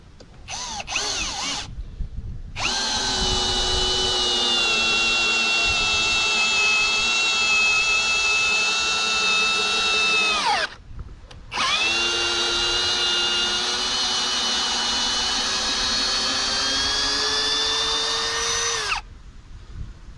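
A Parkside cordless drill, set to drilling mode, drives a 30 cm screw in two long, loud, steady whirring runs with a short pause between them, its pitch sagging slightly under load.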